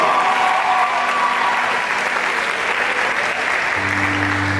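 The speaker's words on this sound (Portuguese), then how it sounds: "Quem acredita nisso já aplauda Jesus, aplauda." A large church congregation claps in loud, sustained applause that fills the room evenly throughout, with a steady musical tone rising underneath near the end.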